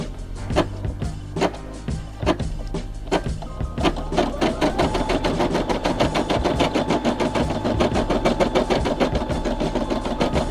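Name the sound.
Brother SE600 embroidery machine stitching a custom patch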